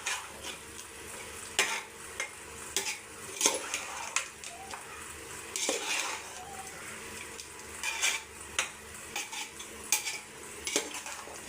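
Chennai-style duck curry with turmeric powder is sautéed in a pan, giving a low sizzle under frequent clinking, scraping stirs at an irregular rhythm.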